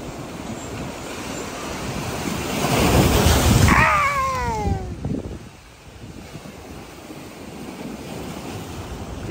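Strong high-tide waves on Boa Viagem beach in Recife surge in and crash close by, the roar swelling midway and then easing into a steady wash of surf under gusty wind noise.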